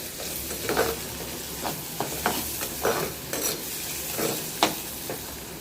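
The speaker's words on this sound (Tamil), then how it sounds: "வெங்காயம் பாதி வதங்கிட்டு இருக்கும்போது தக்காளியும் சேர்த்துருங்க" Onion and tomato sauté in a pan for a village-style mudakathan kuzhambu, a constant close sizzle punctuated by about a dozen rhythmic spatula strokes and scrapes, with no speech.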